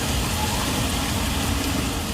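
Heavy rain pours over flooded streets in Bikaner, India, a dense, steady hiss with a low rumble underneath, continuous and fairly loud, with no voices.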